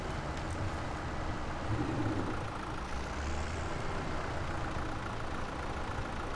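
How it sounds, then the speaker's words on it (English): A tractor engine in Farming Simulator 17 runs at a steady low rumble, idling or working evenly throughout with no pauses, up close and alone without any talk. "This is actually a very good tractor for jobs like this."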